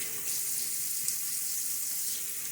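A tap runs steadily into a sink during a wet shave, a continuous close splashing hiss that stays even throughout with no voices.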